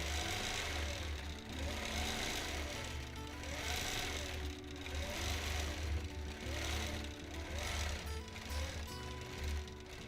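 Sewing machine running continuously during free motion quilting with ditch stitching, a steady mechanical hum and rapid needle chatter that swells and eases in gentle waves.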